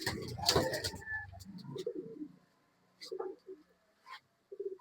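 Pigeons offered for sale in Bangalore give low, soft cooing calls, a couple of muffled coos near the start and short bursts later, with some light background noise and no clear talk.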